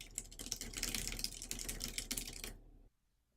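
Rapid typing on a computer keyboard, a close, quick run of light clicks that stops abruptly before a short silence.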